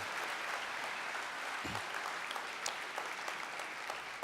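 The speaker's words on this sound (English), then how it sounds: "Could everybody give them a round of applause?" A conference keynote audience applauds the speakers with a dense, steady wash of clapping that holds at an even level throughout, with no voice standing out above it.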